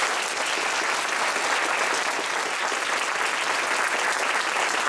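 An audience at a zoo speaker series gives a steady, dense round of applause for the speaker, many hands clapping evenly at close range for several seconds with no talking.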